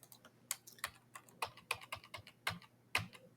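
Keys on a computer keyboard tap in uneven bursts, close and clear, with single sharp clicks and short pauses between strokes in a quiet room.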